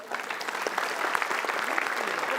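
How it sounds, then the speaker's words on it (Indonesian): A group claps together in a lively, even burst of applause for a couple of seconds, moderately close with no voices standing out. "Main tepuk tangan aja"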